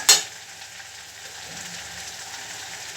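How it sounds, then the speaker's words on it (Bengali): Potatoes drop into braised meat frying in a pot with one sharp clatter at the start, followed by a soft, even sizzle that carries on alone. "এর মধ্যে আমি এখন একটু আলু দিয়ে নিব।"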